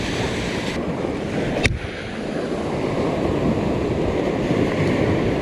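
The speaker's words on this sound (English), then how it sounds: "very light swell coming in" Light ocean swell washes onto a shore under steady wind, a continuous broad surf roar with one brief knock partway through.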